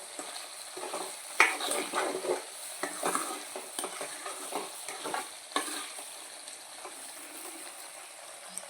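A spoon stirs prawn pickle in a pan over a low flame, with soft scraping and gentle sizzling, quiet and intermittent with no talk.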